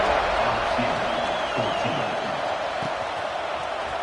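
A college football stadium crowd in Arkansas roaring before a kickoff, a broad, steady wall of cheering with scattered whoops and faint voices mixed in.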